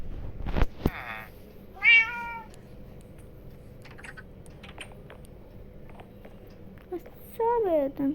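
A cat meows a few short times indoors, close by, over a steady background with keyboard-like clicking and people talking nearby.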